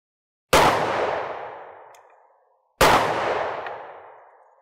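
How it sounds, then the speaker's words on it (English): Two loud, close gunshots from a 10mm Auto pistol fired into ballistic gel outdoors, a couple of seconds apart, each a sharp crack with a long decaying echo. "So what we're gonna do is redo those two shots using the same bullets."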